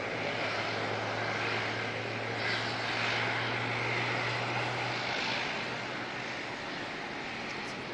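A Qantas passenger jet arrives at Auckland Airport in foggy conditions, a steady broadband engine roar with a low drone that holds strong for about five seconds, then eases slightly as the sound continues, with no talk.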